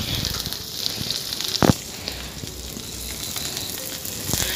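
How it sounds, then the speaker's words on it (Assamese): Onions and curry leaves fry in oil in a pan, giving a continuous soft sizzle with scattered louder crackles and pops, and no talking. "এতিয়া পিঁয়াজখিনি দি ল'লোঁ আৰু শেষত নৰসিংহৰ পাতখিনি দি ল'ম আৰু গোটেইখিনি ভালদৰে অকণমান ভাজি ল'ম"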